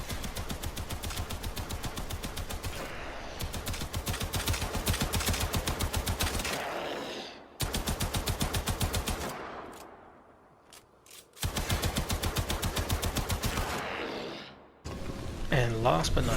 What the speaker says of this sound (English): The Brayton is your automatic rifle